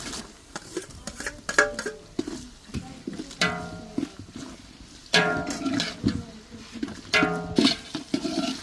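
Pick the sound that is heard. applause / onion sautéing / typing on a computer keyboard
onion sautéing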